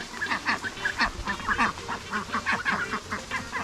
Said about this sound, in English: Here you'll see our 3 ducks that we have.